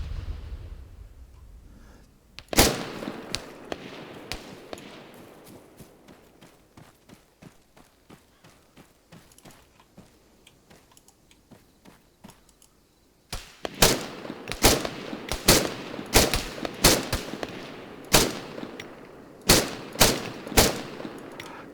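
Gunfire in the video game ArmA 3: after a quiet stretch, a single loud shot rings out, then faint scattered pops, then a fast run of sharp, loud shots in quick bursts near the end.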